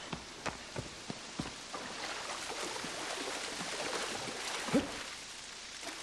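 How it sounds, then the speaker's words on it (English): Steady in-game rain hisses throughout in Shadow of the Colossus, a dense even patter with a few sharper drip-like taps near the start and one louder splash late on, heard alone without voices. "I thought it was raining outside, but it's just an in-game sound."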